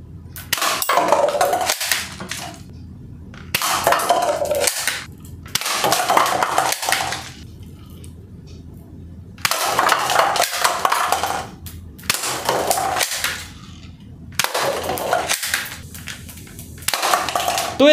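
AK47-style toy gun firing plastic bullets during glass testing, sometimes two or three at once, in repeated bursts of sharp cracking shots broken by short pauses.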